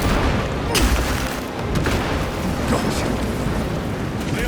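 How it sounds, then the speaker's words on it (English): A krak grenade blows up during a Space Marine 2 mission, with deep booming blasts and rumbling impacts that roll on continuously beneath battlefield noise and voices. "Crack grenade deployed."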